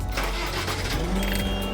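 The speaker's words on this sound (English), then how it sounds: "we can start the machine" Diesel engine of a CTE B-Lift 23JHV aerial work platform starting up and settling into a steady low idle, loud and close, with no one talking.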